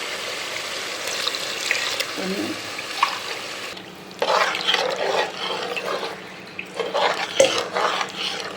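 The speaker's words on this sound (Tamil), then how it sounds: "6 டம்ளர் அளவுக்கு தண்ணி இதில் ஆட் பண்ணணும்" Water pours and splashes into a cooking pot in several tumbler-sized bursts, with brief pauses and light clanks of metal between pours.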